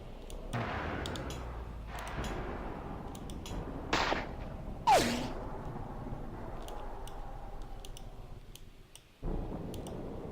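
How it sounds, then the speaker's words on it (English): Sporadic gunshots ring out in the video game Call of Cthulhu: The Wasted Land, a few sharp cracks spaced seconds apart over quiet ambient background, with clicks and a brief whooshing effect in between. "Might as well use your remaining shots"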